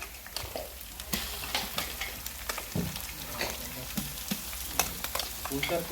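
Garlic paste goes into onions already browned and sizzling in a pan, giving a continuous frying crackle with scattered pops and stirring scrapes, close and moderately loud.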